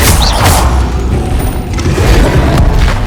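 Incendio fire spell cast in Hogwarts Legacy, a loud booming burst of flame with rumbling low end and a few crackling hits, heard alone without talk.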